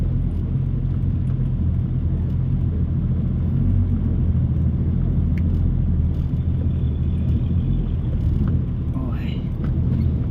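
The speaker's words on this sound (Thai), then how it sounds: "วันนี้นี่โอ้บนถนนใหญ่ก็รถเยอะเหลือเกินครับ" Heavy traffic on a main road rumbles loud and unbroken, a dense wash of car engines and tire noise close by, with a voice talking over it.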